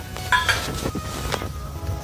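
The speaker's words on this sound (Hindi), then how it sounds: "अब हम इसमें जीरा अपना थोड़ा सा भूनेंगे" Cumin seeds roasting in a pan on a stove while preparing chicken steam roast, a soft close sizzle with a few light clinks of utensil against metal, no talk.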